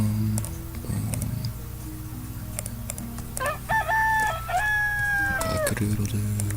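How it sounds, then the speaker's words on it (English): A rooster crows in the video game Towns, a bright, wavering call rising and falling over about two seconds, with soft keyboard typing and clicks around it. "Cock-a-doodle-doo."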